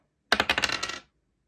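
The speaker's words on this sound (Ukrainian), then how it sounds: "Зараз кину кубик." A die rolled during an embroidery session clatters in a quick burst of small hard clicks and rattles, close and fairly quiet, settling after under a second.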